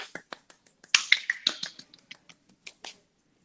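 Hand clapping in a livestream, a string of sharp separate claps of uneven loudness, a short louder burst in the middle and sparser claps before and after.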